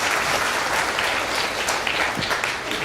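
An audience gives loud, sustained applause at an indoor gathering, with dense clapping filling the whole stretch without letting up.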